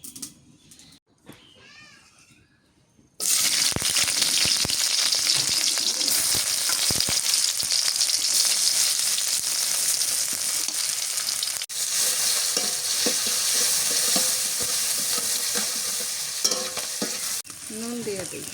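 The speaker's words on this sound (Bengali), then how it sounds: "সিম, ছোট আলু, চিংড়ি মাছের শুক্তি দিয়া ভাজি করবো" Green beans, small potatoes and dried shrimp fry in a pan with a loud, steady sizzle that starts abruptly after a few quiet seconds and runs on without a break, with faint stirring clinks close by.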